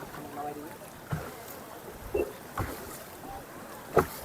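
A small boat rocks on the strong current of the Umngot River at Dawki, with faint water sloshing and a few scattered knocks against the hull, under quiet, distant voices.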